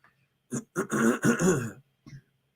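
A person clears their throat in a short burst of rough, guttural hacking, followed by a brief quieter grunt after a pause.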